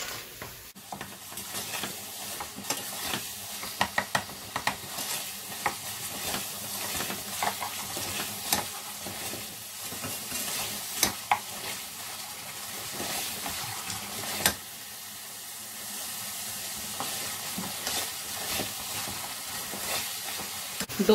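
Potato and eggplant masala frying and being stirred in a pan, with a continuous loud sizzle and repeated clatter of a spoon scraping the pan, close up and without talk.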